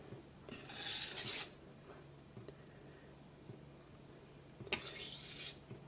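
Knife being deburred on a Naniwa whetstone, two short rasping strokes of steel on wet stone about four seconds apart, close and fairly quiet against a hushed room.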